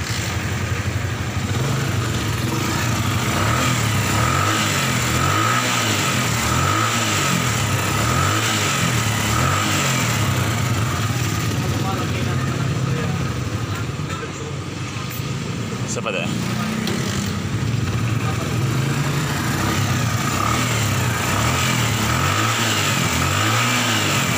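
A motorcycle engine, started with one kick after its spark plug gap was adjusted, runs steadily nearby at a lumpy idle for over twenty seconds. Someone talks over the engine noise throughout.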